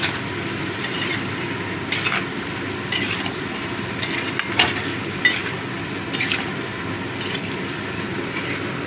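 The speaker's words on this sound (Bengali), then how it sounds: "ভালো করে মিশিয়ে নেব।" Potato and pointed gourd curry stirred in a pan, with a low steady sizzle under repeated scraping clinks of a spatula against metal at an even pace, close and moderately loud.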